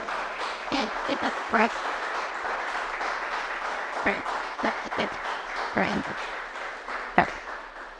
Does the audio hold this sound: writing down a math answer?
no